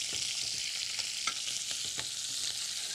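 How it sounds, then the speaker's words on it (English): Onion fries in hot oil alongside popping mustard seeds and golden urad dal, a dense steady sizzle with soft rhythmic stirring taps close by, no talk. "So what I'm going to do is I'm going to add the onion."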